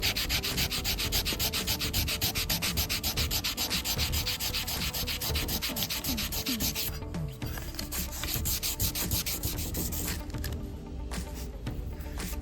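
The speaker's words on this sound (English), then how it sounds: "I'm going to need some fresh sandpaper here in a minute." Sandpaper rubbing back and forth over stainless steel car trim during restoration, a steady close scratchy rasp in continuous rapid strokes, briefly easing in intensity before resuming.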